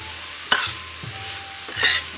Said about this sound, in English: I'm just going to stir that all around.